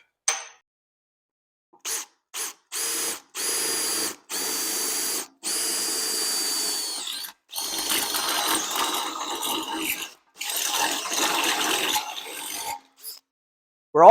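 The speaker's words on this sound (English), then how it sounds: "I'm just going to hit those with the step bit, open them right up." A power drill runs a step bit to enlarge holes in a diesel fuel tank during a custom snowcat build, in repeated bursts, a long whining cut, then rougher grinding passes, separated by short silences.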